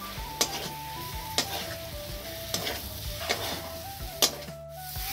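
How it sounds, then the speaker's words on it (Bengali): Potatoes stirred and fried in a spice masala in a pan, with a steady close sizzle and repeated sharp scraping strokes of the spoon against the pan at irregular intervals, with no voices. "এবার আলুগুলো আমি দিয়ে দেব। একটু নাড়াচাড়া করে নিয়ে তারপরে জল দিয়ে দেব।"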